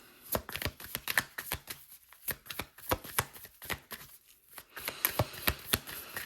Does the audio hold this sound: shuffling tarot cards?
yes